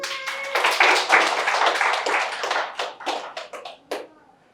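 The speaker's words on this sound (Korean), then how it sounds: "박수" Church congregation clapping hands at a small pioneer church service, a burst of many dense claps that thins to scattered individual claps and fades out.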